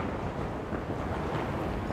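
Steady, heavy wind buffeting the microphone under a MotoGP grandstand, a continuous roaring rumble with no other sounds coming through.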